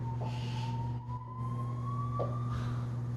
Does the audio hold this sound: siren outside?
yes